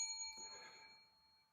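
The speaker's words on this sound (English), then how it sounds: "Bing the bell." A single bright bell ding rings out and its tone lingers, slowly fading over the rest of the moment, with no voices over it.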